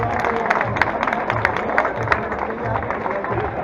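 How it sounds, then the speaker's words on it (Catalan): Crowd applause for a female athlete at the Meliana 7K road race, a steady wash of clapping and cheering held loud and close for the whole stretch, with no clear speech over it. "S'aplaudiment fort per a ella."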